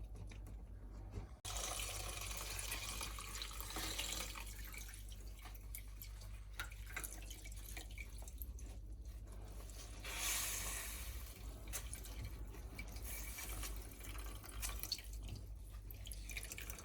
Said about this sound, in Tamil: தண்ணியை விட்டு இதை திருப்பி இந்த சீலையால் அப்படியே வடித்து எடுத்து கொள்ள வேணும்